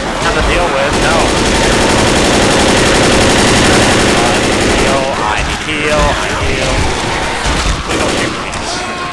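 Rapid video game gunfire from a co-op zombie shooter match, dense and loud throughout, mixed with shouting players and frantic chatter over the shots.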